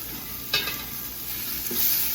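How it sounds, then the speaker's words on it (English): Beef sizzling steadily in a pan on high heat, a continuous hiss with a couple of sharper scraping stirs, close and alone with no talk. "Just high heat, and you're going to quickly just brown the edges of the meat"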